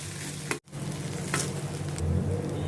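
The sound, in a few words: crushed coriander seeds and fennel sautéing in a pan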